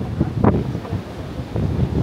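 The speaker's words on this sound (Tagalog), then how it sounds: "Lakas kasi ng hangin." Strong wind buffets the microphone with a continuous low roar and gusty rumble throughout.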